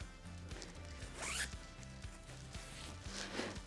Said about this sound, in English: I think this one has a zipper.